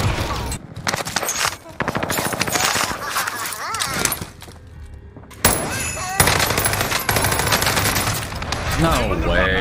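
Gunfire in the video game Call of Duty: Warzone: dense, loud automatic bursts and rapid shots with brief gaps, mixed with excited voices talking over the fire.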